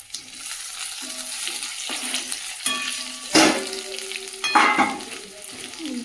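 Fried potatoes tip into a hot pan for an aloo paneer dish and sizzle loudly, with a steady frying hiss broken by several sharp stirring scrapes and clatters of the spatula against the pan.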